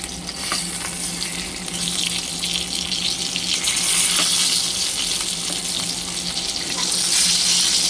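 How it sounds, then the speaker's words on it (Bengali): Koi fish fry in a pan, giving a loud, continuous sizzle and hiss of hot oil that swells a little toward the end, with no one speaking. "এবার ওখানে মাছ একটু ভাজবো আবার"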